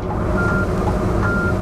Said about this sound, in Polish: Czekaj, aż się wsteczny włączył.